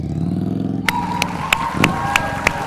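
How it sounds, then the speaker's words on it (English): Motorcycle engine idling at low throttle during slow-speed riding practice, a steady low rumble with a few sharp clicks and small blips of revs, close and fairly loud. "I told him, listen to my engine."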